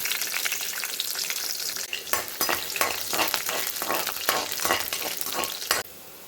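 Garlic frying in hot oil with mustard seeds, fenugreek and curry leaves for a brinjal-potato kara kuzhambu, a dense steady sizzle broken by repeated sharp spoon scrapes and stirring clatter, close and loud, with no talk.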